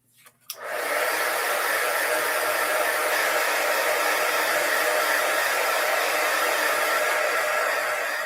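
A craft heat tool blows hot air to set an embellishment, switching on with a click and then roaring in a loud, steady whoosh like a hair dryer for the rest of the stretch, with no speech.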